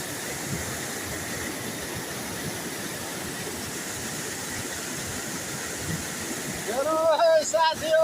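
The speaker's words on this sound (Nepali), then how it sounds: "रावा खोलाको सुराई हेर्नु आएको मान्छे" Rapids on the Rawa river in Nepal roar with a steady, dense rush of fast-flowing water at a fishing spot, loud and continuous, with a brief higher-pitched sound near the end.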